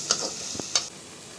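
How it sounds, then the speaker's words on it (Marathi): Roasted onion in a pan with oil for onion chutney, stirred: a brief soft sizzle with a couple of sharp metallic spoon clicks and a dull knock, close and short, no talk. "आता आपण ह्याच्यामध्ये तेल टाकून घेऊ"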